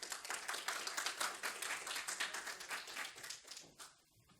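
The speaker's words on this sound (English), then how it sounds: "With a big round of applause, everyone," An audience gives a big round of applause to welcome a woman onto the stage at a fintech masterclass, with dense, steady clapping that thins out and fades toward the end.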